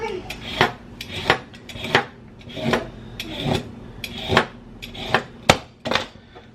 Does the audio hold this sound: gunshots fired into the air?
no